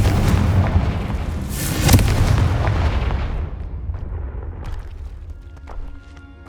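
A Confringo spell explodes in Hogwarts Legacy on PS5 with a loud, booming blast that rumbles and slowly fades, followed by a smaller crackling burst near the end.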